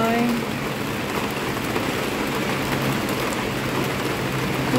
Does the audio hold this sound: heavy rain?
yes